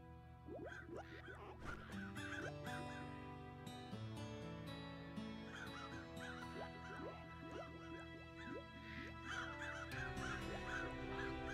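Crows cawing in the RimWorld video game, repeated calls layered over steady game music and ambience, with no talk during the calls.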